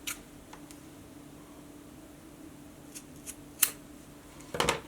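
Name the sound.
cutting cords of a DIY dog collar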